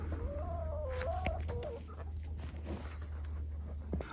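Chickens cluck and call near a chicken-house ramp in the snow, a rising and falling tone early on and then scattered softer clucks over a steady low hum.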